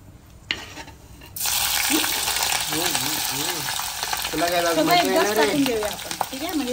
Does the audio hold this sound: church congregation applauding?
no